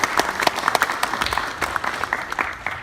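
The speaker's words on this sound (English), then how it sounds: "Big round of applause for those guys supporting Emily." Wedding guests clap for the bridal party at a reception, a lively patter of many hands with sharp individual claps standing out, close and fairly loud throughout.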